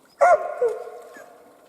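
A dog on a taiga trip by a forest hut gives a single short yelp that trails off into a drawn-out whimper, loud and close in otherwise quiet surroundings.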